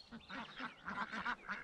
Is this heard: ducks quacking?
yes